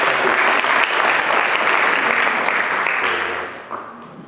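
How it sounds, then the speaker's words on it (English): A large audience at a youth candidate night bursts into sustained, dense applause, loud and steady for several seconds before thinning out and fading near the end. "I want to give you a round of applause again."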